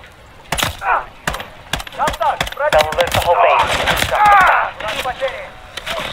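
Gunfire cracks from a bridge in Call of Duty: Modern Warfare 3 during the Gora Dam mission, a quick series of sharp shots under and between a man's radio-style voice.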